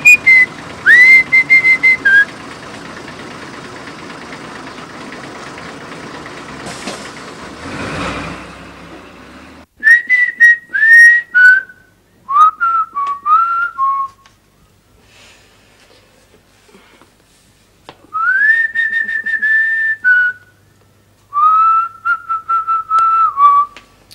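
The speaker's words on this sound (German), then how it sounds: "Also gut, ich pfeife." A person whistles a tune in several short melodic phrases separated by pauses, clear and close, with a brief burst of traffic-like noise partway through.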